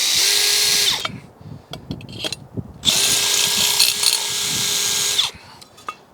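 Power drill boring pilot holes into masonry for flood barrier side rails, two loud sustained bursts of drilling separated by a pause with clicks and handling knocks, close by and with no talking.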